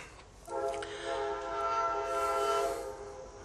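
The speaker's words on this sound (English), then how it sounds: "Hear the train?" A passing train sounds its horn, a long sustained blast that starts sharply and holds for about two seconds before fading under the rumble of the rolling cars.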